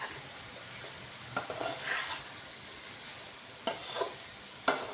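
Butter sizzling in a pan of fried rice, a soft steady frying hiss with a few short sharp scrapes and knocks of stirring, quiet and close.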